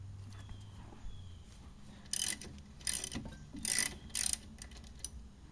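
A 13mm ratchet works on the caliper bolts of a 1995 Jeep Grand Cherokee's front brakes, giving a few short bursts of rapid clicking separated by quiet pauses, close and moderately loud.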